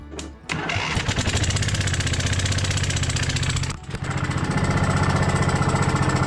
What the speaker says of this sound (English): So the engine's probably going to start up since I think it's been running on one, which is fine.